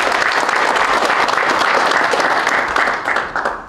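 Guests at a Korean defense-industry gathering give a round of applause, dense and steady clapping that gradually thins and fades over the last second.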